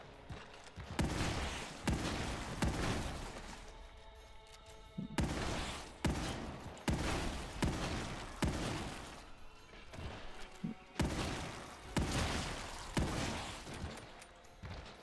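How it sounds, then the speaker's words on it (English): Sawed-off shotgun firing in a video game: a run of loud, booming blasts in separate bursts across the clip, each with a short gap between shots. "And then take this and have our sawed-off shotgun."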